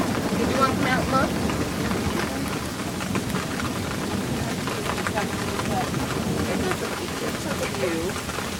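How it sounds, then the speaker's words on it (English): Heavy thunderstorm rain pours steadily and loudly throughout, a dense outdoor wash of falling water with occasional low rumbles and faint voices underneath. "Larimer and Wells have the heaviest storm."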